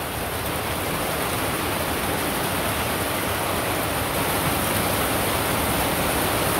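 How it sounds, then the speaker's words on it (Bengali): Heavy rain pours down in a loud, unbroken wash of hiss and roar, steady and close throughout with no voices. "আরে কয় বৃষ্টি বাপরে বাপ"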